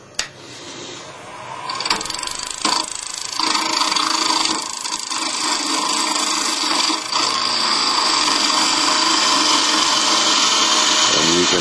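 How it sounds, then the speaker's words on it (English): A skew chisel cuts wood on a lathe with its bevel laid flat, making a steady, loud, rough whirring scrape that continues throughout after an initial knock. "I've got this bevel laid flat against the wood, just barely letting this cutting edge going"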